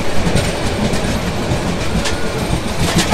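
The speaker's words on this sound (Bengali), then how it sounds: "ফেনী থেকে ছাড়ার পর আমাদের ট্রেন এবার নন স্টপ চলবে" A Dhaka–Chittagong passenger express train rumbles steadily along the rails, heard from inside, with a continuous loud roar and faint rhythmic clacking of wheels.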